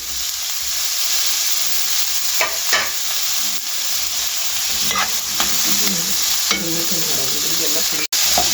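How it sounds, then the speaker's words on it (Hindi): Onion and tomato fry in a pan for a chicken samosa filling, giving a steady close sizzle with repeated scraping stirs throughout and no voices. "प्याज और टमाटर मैंने डाल दिए हैं ऐसे करके।"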